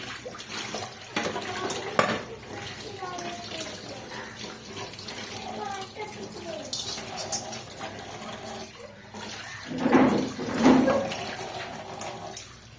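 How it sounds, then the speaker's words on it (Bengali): Water gushes from a tank-fed tap in a home kitchen sink, a steady rushing stream with splashing that swells louder near the end, and faint background voices. "ডাইরেক্ট কলে জল খুব আস্তে আস্তে পড়ছে, ওই জন্য আবার ট্যাঙ্কির কলের জলটা ছেড়ে নিলাম।"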